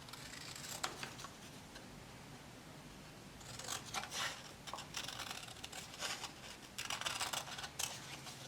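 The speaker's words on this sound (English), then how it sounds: "what you're going to do first is cut around the outside edges" Scissors cut around the outside edges of a brown paper kaleidoscope eyepiece, making repeated close crisp snips and rustling paper that thicken into steady bursts of cutting toward the end.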